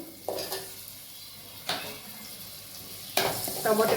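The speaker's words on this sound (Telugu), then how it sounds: "బాగా ఫ్రై చేసేస్తున్నాము. టమోటాలు కూడా ఫ్రై అయిపోయినాయి." Tomatoes and chopped vegetables fry in a pan for potato fried rice, a low steady sizzle broken by three louder bursts of stirring and scraping, with light clinks from a spoon or pan near the end.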